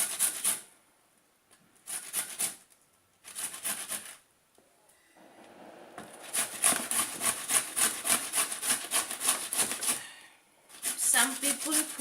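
Rhythmic rasping strokes of an ingredient scraped across a grater for a fish curry, heard in close bursts separated by short pauses, with one longer run of fast scraping.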